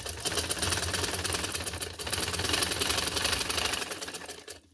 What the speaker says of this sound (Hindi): ये देखें यहाँ हम रखेंगे और इसके ऊपर सिलाई लगा के इसका बॉर्डर पूरा करती हूँ